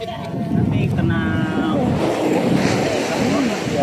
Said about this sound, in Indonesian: Ombaknya tidak terlalu besar ini.